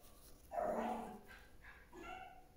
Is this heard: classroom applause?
no